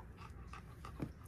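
Dogs panting close by in quick, rhythmic breaths, soft and steady over a short moment with no talking.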